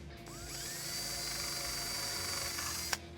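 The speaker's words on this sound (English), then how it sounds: "We're just going to drill the smallest drill bit we have." A small drill bit bores into a wooden planter, a steady high whine held for about three seconds, close by, ending with a brief sharp click.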